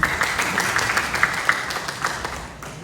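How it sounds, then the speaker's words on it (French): A small crowd at a Haitian school permit ceremony claps briefly, sparse and moderately near, with a few distinct hand claps standing out before it fades. "Un applaudissement, s'il vous plaît."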